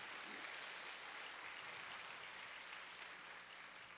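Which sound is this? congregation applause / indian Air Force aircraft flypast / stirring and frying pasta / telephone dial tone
congregation applause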